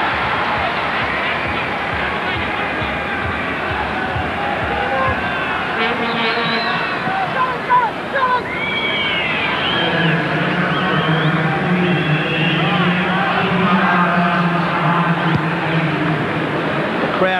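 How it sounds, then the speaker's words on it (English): A stadium crowd roars and chants throughout a 1993 Australia v Canada football match, a broad continuous swell of voices that grows fuller partway through, with a commentator talking over it. "Crowd trying to urge their team on."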